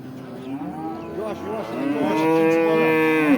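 A cow moos in a long, drawn-out call that rises and holds, loud and close, with no talking, at a cattle sale.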